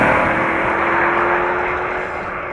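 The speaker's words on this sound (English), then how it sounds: "That glorious sound comes from a 4-litre V8 used in all the E90 series M3s" BMW M3 E92 coupe with the 4-litre V8 shared across the E90-series M3s, a loud, steady engine drone with a sustained tone, heard up close on its own and easing slightly toward the end.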